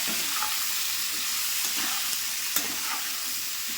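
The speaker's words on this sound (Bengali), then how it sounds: "সমস্ত কিছু দিয়ে দিচ্ছি রান্নার জন্য রেডি আর একটু দিয়ে দিলাম ভালো করে কষে নেবো" Vegetables such as cauliflower, beans and tomato with salt and turmeric sizzle steadily in a pan while being stirred, a continuous close frying hiss with occasional soft scrapes and no talking.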